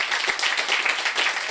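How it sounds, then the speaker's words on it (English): Brief burst of applause from an audience at a conference talk on evidence use, a dense even wash of clapping lasting just over a second. "So round of applause for all of them."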